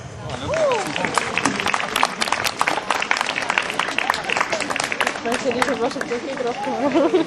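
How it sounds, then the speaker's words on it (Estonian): A crowd gives folk dancers a steady, dense round of clapping that carries on throughout, with chatter and a voice over the applause. "Maruline aplaus neile"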